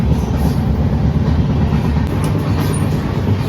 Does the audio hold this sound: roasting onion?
no